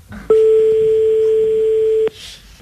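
On a French radio show, a telephone call rings through the studio as a loud, steady electronic tone lasting nearly two seconds, starting and stopping abruptly with faint background noise before and after.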